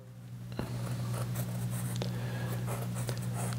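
Pencil drawing weighted lines across sketchbook paper in short strokes with a steady low hum beneath, close and fairly quiet.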